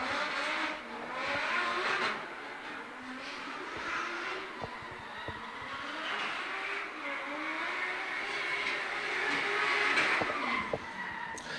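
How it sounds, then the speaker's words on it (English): A Nissan 180 drift car at Baypark Stadium slides through a drift series qualifying run, its tires squealing at length and its engine revving at a distance, faint against a track-side background. "James Wynyard behind the wheel of that Nissan 180"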